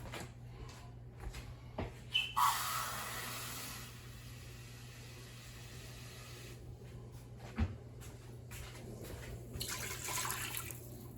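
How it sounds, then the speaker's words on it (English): A cup of water is poured into an Instant Pot, a short bright gush followed by a couple of fainter splashy pours, with small kitchen clatter around them. "then we're gonna put another cup of water in there"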